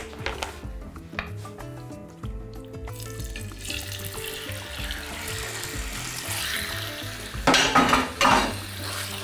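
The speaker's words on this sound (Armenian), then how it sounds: "Ուժեղ կրակի վրա տապակում ենք այնքան, մինչև մսակտորները սկսեն կարմրել" Marinated chicken frying over high heat in a blend of olive and sunflower oil, a close crackling sizzle with clinks and scrapes of utensils, swelling louder with a burst of spattering near the end.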